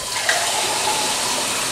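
Water pours steadily into a pan of Ebly vegetables with chicken, a continuous close hissing splash without pause or talk.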